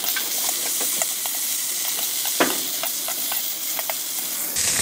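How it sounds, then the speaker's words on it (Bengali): Cumin and garam masala paste fries in a pan, a steady broadband sizzle with repeated light scrapes and clicks of stirring, one louder scrape midway, no voices. "এখন মশলাটাকে হালকা করে ভেজে নিব"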